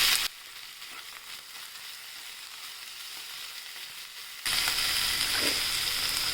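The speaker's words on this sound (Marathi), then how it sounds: "हे आता परतून घेऊया जरा" Beans, carrots and peas sautéing in a pan for ragi millet soup, a soft, steady sizzle that turns louder and brighter after a few seconds as the vegetables are stirred.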